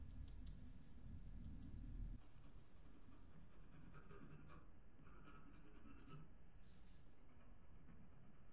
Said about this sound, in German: Schraffiere ganz sanft hier erstmal die dunklen Stellen.